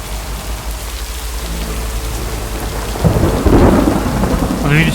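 Steady rainfall hisses throughout in a video game, then a deep rolling rumble of thunder builds and swells near the end.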